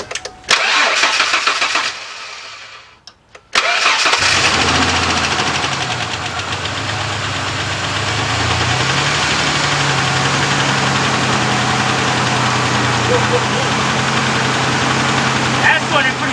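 A 1998 Ford F150 pickup with a 4.2 engine, running rough with multiple misfires, cranks over and catches after a short pause, then settles into a loud, steady idle with an uneven, knocking undertone.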